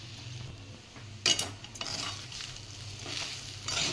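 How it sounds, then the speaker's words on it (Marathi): Sabudana khichdi gets stirred in a pan, giving soft scraping and clinking strokes over a light sizzle, with a few sharper utensil knocks at irregular moments, close and fairly quiet. "आता चांगलं मिक्स करून घ्यायचं"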